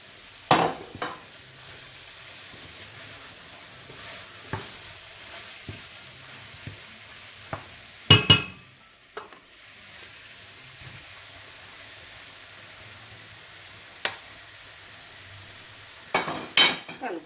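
Beef sausage sauce with dill sautés in a pan, a low steady sizzle broken by sharp scraping stirs and occasional clatters of a utensil against the pan.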